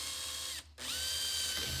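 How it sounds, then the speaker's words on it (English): A short, close whir of a cordless drill motor, briefly cutting out before spinning back up with a rising whine. "Start the drill slowly"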